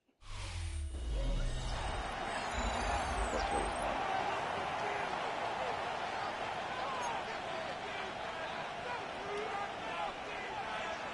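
Football stadium crowd in the Madden 26 video game, a steady, broad roar that holds evenly for several seconds after a brief low thump at the start.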